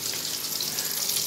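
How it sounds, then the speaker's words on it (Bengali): Eggplant frying in a pan as a dense, even hiss of hot oil, close and continuous without a break for a brief moment, with no talking. "বেগুন ভাজা করছি"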